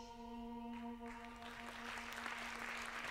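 Applause from a played video clip, a spread of clapping swelling from the start and holding steady over a sustained tonal hum, with no voices.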